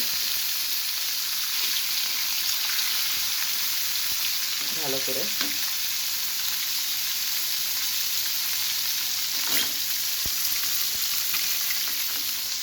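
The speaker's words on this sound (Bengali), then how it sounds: "জাল দিয়ে ভেজে নেব" Pieces of rohu fish frying in oil in a pan over medium heat, a steady bright sizzle throughout with a couple of brief stirring or turning clatters and a few quiet spoken words.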